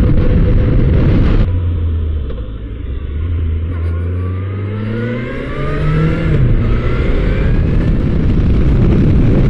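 A Kawasaki H2 motorcycle rides along a road with loud, close engine roar and wind rush, shifting through gears as the revs climb in rising sweeps and then settle back down.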